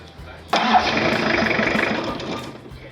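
Toyota Hilux 5L diesel engine cranking over during a timing belt job, a sudden loud start half a second in, then a steady whirring churn close by that fades slightly toward the end.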